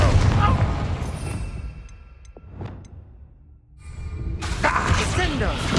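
A fiery Confringo spell explosion from the Hogwarts Legacy video game, a loud blast with a rushing whoosh and booming decay, surrounded by dense game noise.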